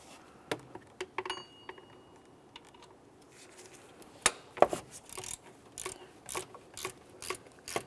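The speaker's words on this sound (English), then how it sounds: "We'll use a 15mm to remove the center bolt." A 15mm socket wrench ratchets on the idler pulley center bolt of a 2001-2005 Ford Sport Trac XLT, giving scattered close clicks and metallic taps with pauses between short bursts.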